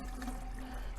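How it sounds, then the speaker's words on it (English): Water poured into a container during a classroom density experiment, a short continuous splashing trickle with a low liquid gurgle, heard close and alone. "Let's put some water in this one."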